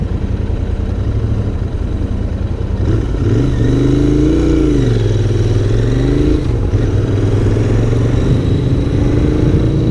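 Royal Enfield Interceptor 650 parallel-twin motorcycle engine idling loud and close, then blipped in a couple of quick revs that rise and fall before settling back to a steady, throbbing rumble.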